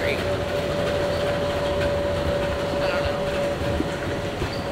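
An airport tram running along its rails, a continuous rumbling hum with a steady tonal whine and faint clacks, heard close from inside the car.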